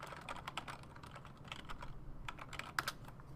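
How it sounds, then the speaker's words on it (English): A web address being typed on a computer keyboard: a quiet, uneven patter of key clicks with short gaps and a few sharper taps near the end, heard close and alone. "type in the address you want to point to"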